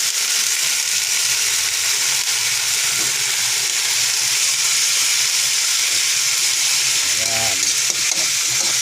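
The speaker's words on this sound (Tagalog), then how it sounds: "Lagay natin ang talbos." Sweet potato leaves frying with canned sardines in a pan give a loud, continuous sizzle and hiss up close, with occasional stirring scrapes and a brief spoken word near the end.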